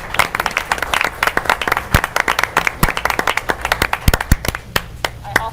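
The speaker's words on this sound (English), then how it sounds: "Let's give her a round of applause." Clapping at an evening combined board meeting welcoming a new school superintendent, a loose patter of individual hands with sharp, uneven claps standing out close by against softer clapping from the room, lasting several seconds.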